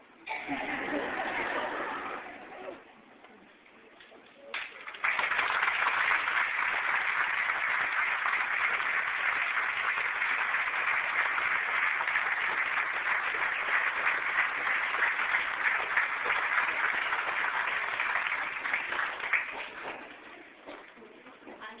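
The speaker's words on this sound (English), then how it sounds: "Can we just give her one more round of applause?" An audience gives a round of applause for Holocaust survivor Eva Kor after her talk. A dense, even wash of clapping swells and holds for about fourteen seconds, then tapers off.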